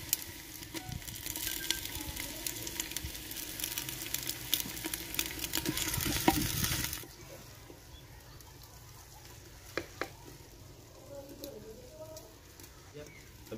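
Garlic and crushed ginger sizzle in hot oil in a village kitchen, making a steady, bright crackle that stops suddenly halfway through, followed by quieter stirring and faint birdsong while someone speaks.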